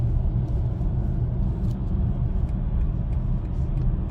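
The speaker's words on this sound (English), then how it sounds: "And now a little bit acceleration." A 2022–2025 BMW i4 M50 electric car with 544 horsepower accelerates hard, producing a steady low rumble of road and tire noise inside the cabin, constant and fairly loud with no engine note.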